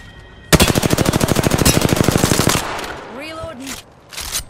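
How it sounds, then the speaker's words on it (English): Sustained automatic machine gun fire in a shooter game, a fast even burst of about two seconds, loud and close, then a brief voice and a few game sound effects. "Opening fire."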